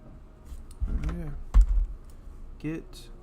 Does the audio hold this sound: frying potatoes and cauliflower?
no